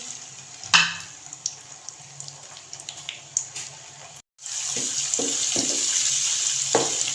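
Ginger garlic paste sizzling in hot oil for achar gosht, a steady crackling fry with a brief louder splash at the start, then a gap and stronger bubbling sizzle with occasional pops.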